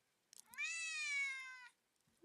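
A pet cat gives one clear, drawn-out meow lasting about a second, close and fairly loud in a quiet room, with a faint rustle after.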